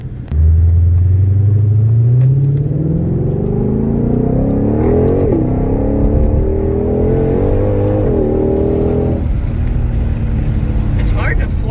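A 2020 Shelby GT500 in track exhaust mode revs and accelerates with a loud, deep, rising engine drone through several gear climbs, close and dominant, before easing off near the end while someone talks over it.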